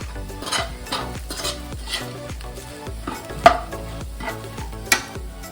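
A spoon stirs and mixes ingredients in a pan, making rhythmic scraping strokes roughly twice a second with a couple of sharper metallic knocks, close up and without any talk.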